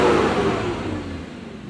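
A tuned forty-year-old Mercedes-Benz 124 with a K-Jetronic engine runs at a steady idle. It makes a low, continuous hum that settles slightly over a couple of seconds, close by, with no voices.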